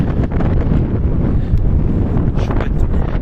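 Strong wind blows across the open steppe, buffeting the microphone in a loud, continuous rumbling roar with no voices.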